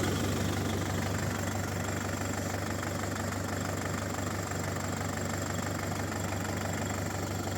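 A Scout 404 Chinese tractor's engine idles steadily, with a continuous low diesel rumble and knocking vibration that holds constant throughout with no talking over it.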